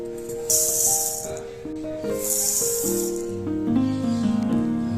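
Pearl millet grains poured into a cup in two short hissing, rattling bursts, against a steady tonal background.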